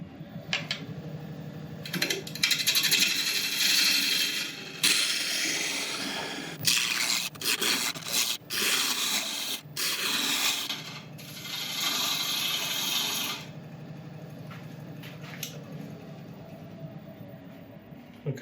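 A wood lathe turns a bowl blank at about 700 RPM while a sharpened bowl gouge cuts into it. Bursts of loud scraping and tearing come in irregular passes over a steady mechanical whir, with quieter gaps between cuts.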